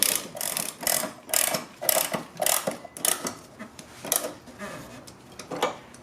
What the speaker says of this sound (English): I'm using a ratcheting wrench, and also a crescent wrench. Go ahead and tighten up those completely.